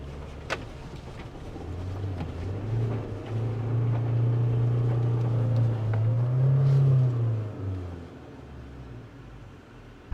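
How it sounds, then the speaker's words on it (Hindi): Mahindra Thar Roxx 4x4 climbing a slope in 2H mode, its engine droning loud and close, revving up and holding a strained hum before easing off near the end. "अब मैं इसको 2H में आपको चढ़ा के दिखाता हूँ।"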